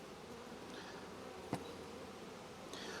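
Honeybees buzz softly inside an open beehive during a frame inspection, a faint steady hum with one brief sharp knock midway and a light rustle near the end.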